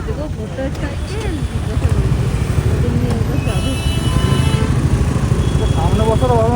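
A motorcycle runs with a steady, rumbling engine drone on a ride toward a petrol pump in Bangalore, close and continuous, with voices talking over it throughout.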